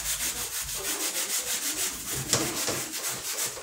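A barbecue grill grate being scrubbed with a baking soda and vinegar mixture gives a steady, rhythmic back-and-forth rubbing, close and moderately loud, with a brief sharper scrape partway through and no talking.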